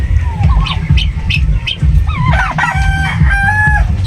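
Loud, close hen squawks and clucks repeating in quick irregular bursts, with rising and falling calls over a low rumbling background; a broad-breasted hen that has just laid an egg.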